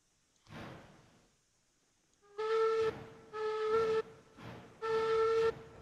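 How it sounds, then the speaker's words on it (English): Three loud steam locomotive whistle blasts signal a train about to reverse in the train simulator game Railroads Online, each a sustained tone about a second long, preceded by a softer hiss of steam. "Three whistles to back up."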